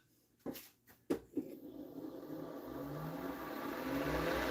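A wood lathe spun up to top gear for turning pens, with a maple-sliver pen blank mounted. A couple of sharp knocks come first, then a steady whirring hum builds and holds, close and fairly loud, with no talking.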